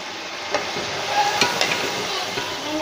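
Beef pieces for nalli biryani sizzle in hot spiced masala, a steady close frying crackle with occasional stirring scrapes and pops.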